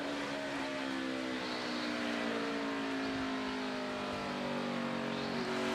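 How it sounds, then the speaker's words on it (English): NASCAR stock car engine at the 2012 Capital City 400, driver stuttering the throttle coming off a corner; a steady loud engine drone with shifting harmonic tones, no talk. "you hear Harvick stutter in the throttle coming up off the corner"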